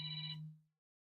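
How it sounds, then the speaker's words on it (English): A telephone gives a single short ring for an incoming call, with steady bright tones over a low hum that cut off quickly and fade into silence, heard alone. "Phone call again."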